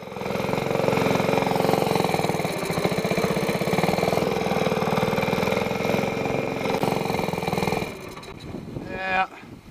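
Stage 2/3 mud motor boat engine running steadily at high power, a loud continuous buzzing drone close by that drops in pitch and revs down near the end.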